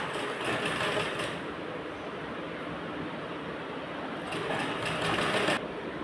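Lace is stitched onto a Morni-style blouse with a sewing machine, producing a close, steady, rapid whirring rattle that runs throughout with slight surges in speed.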